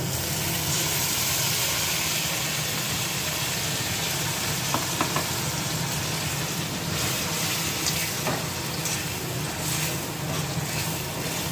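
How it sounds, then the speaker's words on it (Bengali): Spice masala poured over fried onions sizzles in a pan for a chicken kosha, giving a continuous, even frying hiss with a few faint clinks and no talking. "এবার মশলাটা ভেজে নিয়ে তারপরে আসছি"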